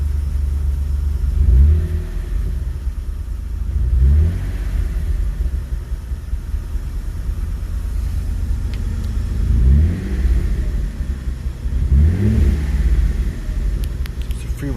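A 1991 Mitsubishi 3000GT VR-4 engine with a GReddy EMU free revs while parked. Four loud revs rise and fall, two close together early and two later, over a steady rumbling idle.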